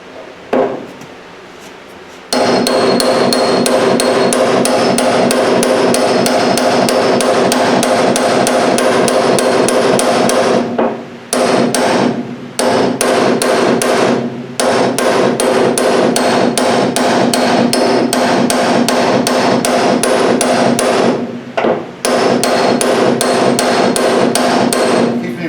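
A body hammer beats on the steel door skin of an MGA, a rapid, steady stream of loud ringing metallic blows that runs for long stretches with brief pauses between bursts.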